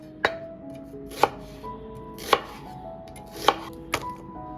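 Half a medium onion chopped with a knife on a cutting board, five sharp, evenly spaced thuds about a second apart, close and clear with no talking.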